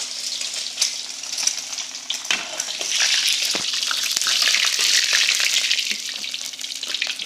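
A fried egg sizzles loudly in hot oil in a pan, a continuous close crackling hiss that swells in the middle, with a few utensil clicks and no talking.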